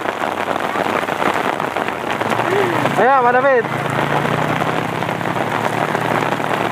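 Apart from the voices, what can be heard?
heavy rain falling at a toll road construction site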